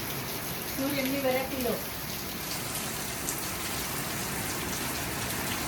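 Steady rain falls throughout, a constant wash of drops on surfaces that continues evenly from start to finish, with a brief burst of voices near the beginning.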